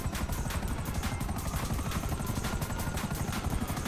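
A helicopter in GTA 5 Online on PS4 thunders close and loud, its rotor beating in a fast continuous chop over a roaring engine, with no talk.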